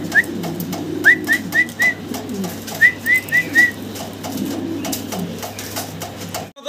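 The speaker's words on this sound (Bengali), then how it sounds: "সর্বোচ্চ কোয়ালিটির এক জোড়া মুন্ডিয়ান কবুতর আছে" A pair of Mundian fancy pigeons coos in two clear runs of about four short, rhythmic calls each, close and distinct over a low steady hum and soft background murmur.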